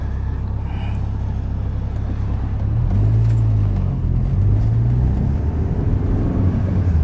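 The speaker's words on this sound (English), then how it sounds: "we've got cars and trailers and stuff going everywhere" Cars and trailers move around the back service area of a classic car show venue, a continuous near engine rumble with a vehicle pulling close midway and no talk.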